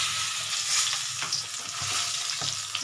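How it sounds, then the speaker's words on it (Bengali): Potatoes and pumpkin stirred into spices frying in a pan for a Bengali home-style dish, a dense continuous sizzle close by with periodic scraping strokes of a spatula. "আলু আর কুমড়োগুলো আমি এখন দিয়ে দিচ্ছি।"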